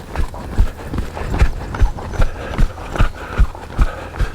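A horse trots with a steady, even clip-clop of hooves, close and fairly loud, each beat evenly spaced with no talking over it.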